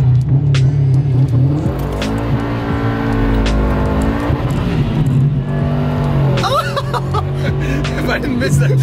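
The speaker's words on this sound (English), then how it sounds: "just clutch in and just gas in and let it rev" A Subaru WRX STI engine revs loudly and steadily with the clutch in, then launches with a surge of acceleration and a rising, harsher roar; voices talk over it.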